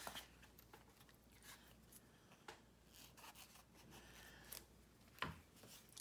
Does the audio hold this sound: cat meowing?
no